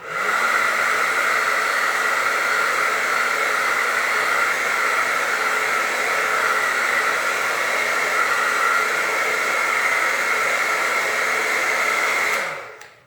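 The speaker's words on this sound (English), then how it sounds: "I will use my blow dryer just to dry it a little bit" A hair dryer on its cool setting blows steadily with a loud, even whooshing hiss for about twelve seconds, then shuts off.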